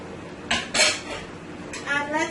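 Cabbage and cherry tomatoes tossed in a metal pot for a chicken cabbage curry, giving a few clattering, scraping bursts of utensil against pot, fairly close and moderately loud.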